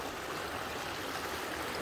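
Garden water feature beside a house, a steady soft wash of flowing, splashing water heard alone and fairly faint.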